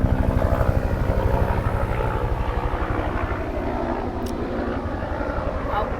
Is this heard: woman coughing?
no